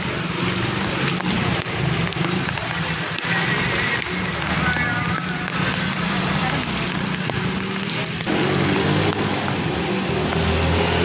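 Heavy rain falls in Taxila, a steady broadband hiss of downpour with a low rumble of passing traffic underneath and a voice talking through much of it.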